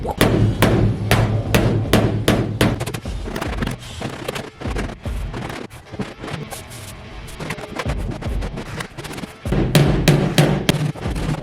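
Hammer blows ring out against the dented body panels of a Chevy Blazer during bodywork, in quick repeated bursts of sharp metallic strikes with a short pause midway.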